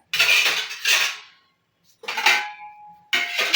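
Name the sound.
dishes and utensils being put down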